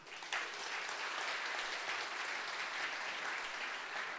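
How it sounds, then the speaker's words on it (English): An audience claps for the jury at a startup competition final, a sustained wash of applause that rises sharply at the start and stays even, fairly faint and distant, with no talking. "Round of applause, please."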